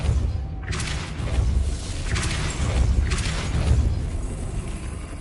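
A Depulso spell cast in Hogwarts Legacy gives a few booming, thudding bursts over a low rumbling game soundscape, each blast swelling and fading in sequence.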